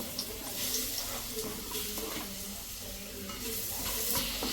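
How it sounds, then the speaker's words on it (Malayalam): Ripe banana pieces sizzling and frying in hot ghee in a pan, a steady close hiss and crackle with occasional stirring scrapes throughout. "ആ ചൂടായി നെയ്ക്ക് നമുക്ക് ഈ പഴം ഇടാം"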